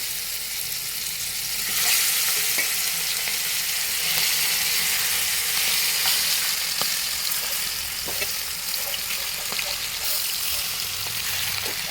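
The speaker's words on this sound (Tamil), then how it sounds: "இப்போ நம்ம மேக்னேட் பண்ணி வச்சுருக்க சிக்கன் எல்லாத்தையும் சேர்த்து அதோட வேக வச்சுக்குவோம்" Marinated chicken pieces frying in hot oil for a Thiruvananthapuram-style chicken fry, a steady loud sizzle that swells just after being added and continues with occasional stirring clicks and scrapes.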